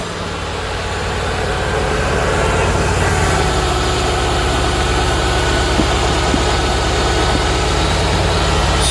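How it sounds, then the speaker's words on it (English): A Mercedes GL450 with a faulty air suspension idles nearby, a steady low engine hum with faint mechanical ticking and no speech. "So as you can hear, the engine is running."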